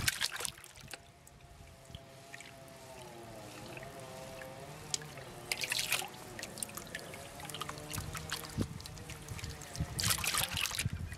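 Clean water trickles and splashes into a gold pan while panning for gold at Coolgardie, faint and close-up, with intermittent louder pours and drips and a soft hum underneath.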